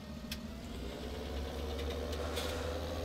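A tractor engine idles in Farming Simulator 17, giving a steady low droning rumble with even loudness and a few faint clicks above it, with no one talking.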